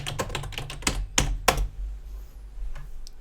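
Computer keyboard typing during a live stream, a quick run of close, crisp key clicks in an irregular burst that then thins out into a few scattered taps and room quiet.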